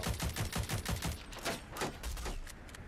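Gunfire in the video game Rogue Company, a rapid rhythmic burst of shots followed by scattered, slightly fainter single shots, all fairly close.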